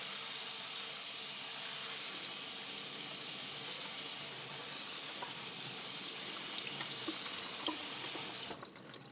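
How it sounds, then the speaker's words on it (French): Sprouts are rinsed under running tap water, a steady close hiss of flowing water with faint splashes that continues alone and cuts off near the end. "Puis je rince comme d'habitude."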